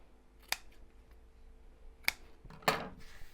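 Scissors trimming fabric tabs while sewing a zipped pouch: three crisp snips spaced about a second or more apart, the last a longer crunching cut, close and clear against a quiet room.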